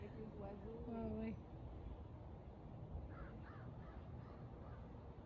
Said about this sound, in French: Avec les oiseaux.